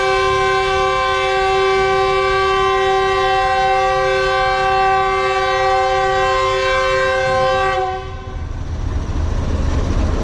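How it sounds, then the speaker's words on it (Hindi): A Pakistan Express train sounds its first departure horn in Sindh, a loud sustained harmonic blast lasting about eight seconds before cutting off into rumbling engine and railway noise. "तो ये फर्स्ट डिपार्टिंग विसल जो है हो चुका है।"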